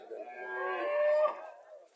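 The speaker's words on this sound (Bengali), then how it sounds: "মিডিয়াম সাইজের দেশি গরু" A native cow moos once at a busy cattle market in Chauara bazaar, Comilla: a single drawn-out, close and fairly loud low call lasting about two seconds.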